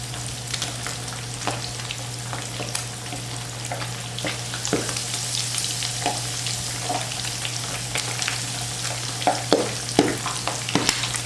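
Pork cracklings frying in hot oil on a stovetop, a continuous sizzle with frequent sharp pops and crackles scattered throughout, growing busier toward the end, with a steady hum underneath and no talk.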